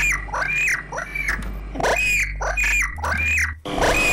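Harsh bird squawks repeat loudly in a Luntik video game, several rising cries in uneven bursts over a steady low electronic hum, with no talking.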